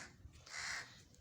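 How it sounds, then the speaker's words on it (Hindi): A crow gives a single clear caw close by, a short harsh call standing out over faint background hiss. "देखिए जी कौवा बोल रहे हैं"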